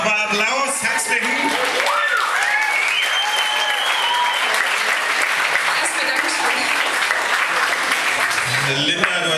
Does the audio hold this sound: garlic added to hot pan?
no